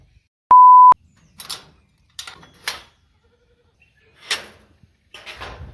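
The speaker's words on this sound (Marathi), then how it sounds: "शेळ्या आपल्या मस्त बसलेल्या आहेत" Goats on a farm give several short, separate bleats spread through the moment, each a brief close call, after a single electronic beep at the start.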